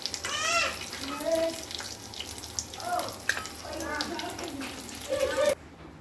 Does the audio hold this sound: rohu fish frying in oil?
yes